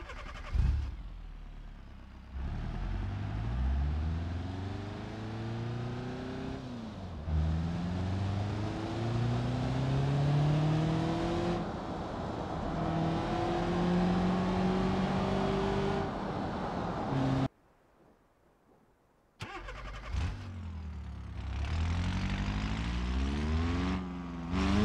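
Engines of cars in the BeamNG Drive video game, running with no exhaust, rev up and down in long harsh, raspy sweeps, loud and close, with a brief near-silent gap between cars and no talking.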